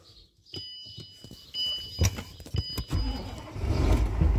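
A car's engine being started after a battery repair: electric whirs and clicks, then the starter cranks and the engine catches into a low idle, quiet and close.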